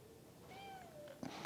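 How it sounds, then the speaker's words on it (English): A shop cat gives a single faint, drawn-out meow, followed by a short rustle, in a quiet workshop. "Oop, Shop Cat."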